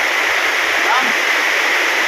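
Swollen river water rushes past during a typhoon, a steady broadband roar of flowing current that fills the whole clip with no break, loud and close.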